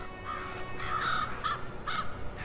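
Ravens in a far-north winter landscape give a series of harsh, hoarse caws, about five calls spaced irregularly at moderate distance over a faint background hum.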